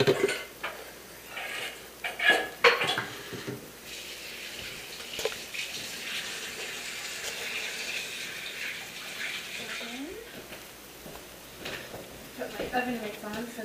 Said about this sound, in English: And Alicia, if you'll put the batter in the pan